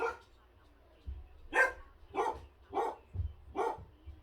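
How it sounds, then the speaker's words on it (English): Dogs bark in a steady series of about four loud, close barks, spaced roughly half a second apart. "I don't know why the dogs are always barking."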